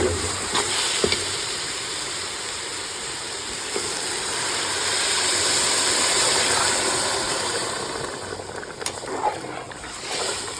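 Water poured into roasted rice in a pot while making ghee rice gives a steady, loud rushing pour with a hissing wash that swells and eases over about ten seconds, with no voices.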